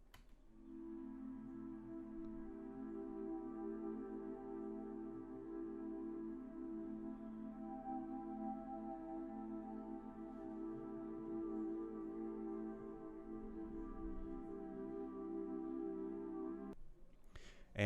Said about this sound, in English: the next thing I added in this was a pad from Omnisphere,